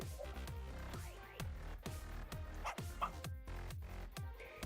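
A video-game dog being petted gives a rhythmic run of about ten short yips and whimpers. Each is close and fairly quiet, repeating evenly one after another.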